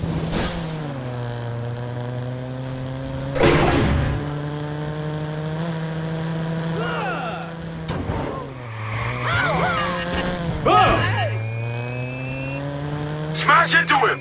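Car chase in the Watch Dogs video game, ramming another car off the road: a loud, sustained engine whine rises and falls in pitch, broken by sharp impact crashes and tire screeches.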